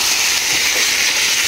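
Young jackfruit curry cooking in a pan makes a loud, continuous close-up hiss for a brief moment.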